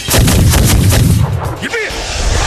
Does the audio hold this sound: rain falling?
no